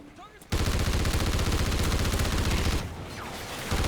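Call of Duty Ghosts gunfire roars as a dense, loud, continuous burst of automatic shots for about two seconds, then trails off and resumes briefly.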